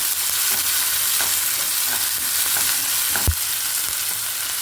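Sliced onions with dried red chillies and green chillies sauté in a pan for poriyal, a steady close sizzle with soft stirring scrapes and one sharper clack near the end, no voices.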